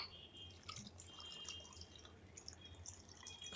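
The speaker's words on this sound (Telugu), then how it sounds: "ఇప్పుడు ఇందులో మనం కొద్దిగా ఏం చేద్దామంటే వాటర్ యాడ్ చేద్దాం" Water is added to a dish while cooking, heard as faint, sparse drips and light trickling in a quiet room.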